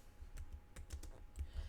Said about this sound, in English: It really picks up the typing too.